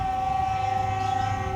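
An Argo Willis passenger train departing Bandung Station sounds a sustained, steady horn blast close by, with low rumbling of the rail cars underneath.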